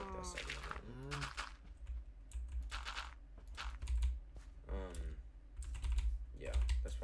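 Computer keyboard clicking under typing, a soft, steady patter of keys running beneath continuous close talking throughout.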